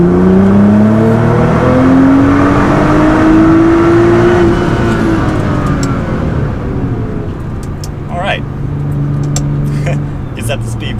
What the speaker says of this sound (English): now for the third gear full throttle acceleration